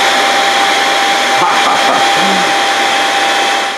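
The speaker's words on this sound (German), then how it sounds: "ein Staubsauger mit einer Absaugstation, so dass ihr ihn nicht mehr selber entleeren müsst" A Shark Detect Pro cordless vacuum cleaner runs close by with a loud, steady motor whir and a thin high whine, its tone shifting briefly midway before winding down at the end.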